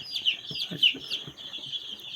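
Desi country chicks peep in a continuous high-pitched chorus of rapid, overlapping cheeps while being caught by hand, with faint low human sounds underneath.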